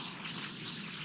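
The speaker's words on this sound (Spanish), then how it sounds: "viene una tormenta violentísima con rayos y nubes cargadas" Heavy rain from a violent thunderstorm with lightning pours down as a dense, steady hiss of drops, loud and unbroken through the brief moment.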